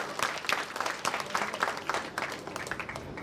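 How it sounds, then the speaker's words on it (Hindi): Loud applause from an audience honouring a great man at a statue unveiling ceremony for Rana Raghunath Singh, dense clapping throughout with a crowd murmur beneath. "उस महान पुरुष के लिए जोरदार ताली बजाइए जो इन्होंने सोचा"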